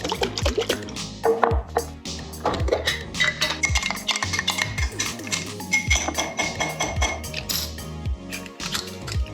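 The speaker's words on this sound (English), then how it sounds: "cover and then just shake vigorously to emulsify it" A covered jar of salad dressing is shaken hard to emulsify it, giving a steady, busy clatter and rattle of liquid and jar throughout, close and fairly loud, with no talking.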